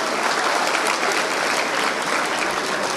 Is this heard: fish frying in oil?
no